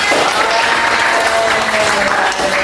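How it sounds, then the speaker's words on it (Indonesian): A classroom of students in an Indonesian English lesson bursts into applause, a brief, dense burst of close clapping that stays loud throughout with a little voice noise mixed in. "Tepuk tangan."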